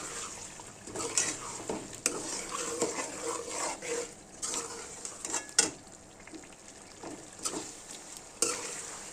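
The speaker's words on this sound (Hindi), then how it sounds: "अब दोबारा से इसकी बहुत अच्छे से भुनाई करेंगे।" Spices sizzle in a karahi while a spatula stirs and scrapes, with irregular metallic clanks; no one speaks. Mutton karahi being cooked.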